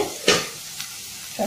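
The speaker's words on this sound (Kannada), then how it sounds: "ಮತ್ತು ಸ್ವಲ್ಪ ಫ್ರೈ ಮಾಡುವ. ಸ್ವಲ್ಪ ಫ್ರೈ ಆಗಬೇಕು." Idli pieces frying and being stirred in a pan, a soft continuous sizzle broken by a few sharp spatula scrapes, close and fairly quiet.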